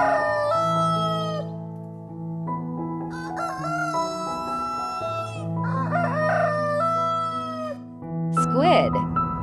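A rooster crows over and over, loud and close, several drawn-out cock-a-doodle-doo calls following one another with short breaks, ending in a higher, strained burst.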